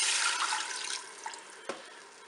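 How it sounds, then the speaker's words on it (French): Broth poured into a Cookeo multicooker pot for a seasoned turkey roast: a steady, fairly loud liquid rush that thins out over the first second, followed by faint trickling and a single small splash near the end. "verser mon bouillon"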